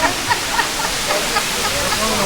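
Waterfall near Catawba Falls in Pisgah, a loud, steady rushing roar of falling water filling the whole background, with faint voices from hikers nearby.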